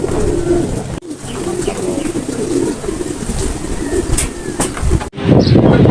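Racing pigeons flutter and coo around their loft as the birds return home from a race lap, a steady bed of bird sounds with a couple of sharp wingbeat bursts and a loud close rustle near the end.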